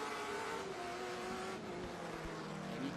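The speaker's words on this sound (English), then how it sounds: "how much he's working that car, changing the gears, getting on the acceleration" A race car at Lime Rock Park in the SpeedTour All-Star Race roars under hard acceleration with gear changes, a steady loud engine drone that shifts pitch through the shifts, heard without anyone talking.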